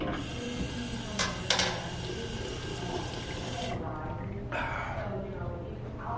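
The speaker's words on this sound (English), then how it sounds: "So this would have been the black water fountain?" Water from an old public drinking fountain runs in a steady, close stream, with a brief louder splash partway through and people talking over it.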